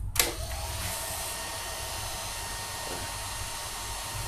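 The radiator fan on a Honda CB150R motorcycle runs with a steady, close whirring hum after a short click at the start, holding constant throughout with no talk.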